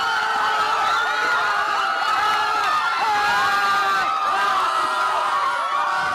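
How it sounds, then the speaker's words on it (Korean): Korean expatriates gathered to watch a World Cup match erupt in loud, sustained cheering and excited shouting after a late second-half goal, a dense crowd roar with overlapping high voices. "교민들은 승리보다 더 기쁜 환호성을"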